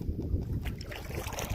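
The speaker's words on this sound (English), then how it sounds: "Even windy over here." Steady low wind rumbling against the microphone outdoors on shallow Smoothwater Lake, with faint lapping and small knocks in the background.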